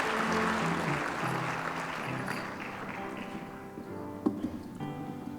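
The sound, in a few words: applause for Sterling Merit Award recipients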